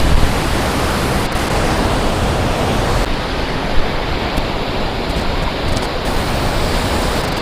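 Devkar waterfall near Yellapur, Karnataka, roars as a loud, unbroken wash of rushing water. It holds steady for the whole stretch, close by, with no voices.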